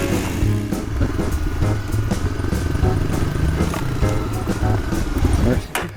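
A motocross bike's engine drones and revs steadily with a raspy buzz on a motocross track, loud and close, with a voice talking over it.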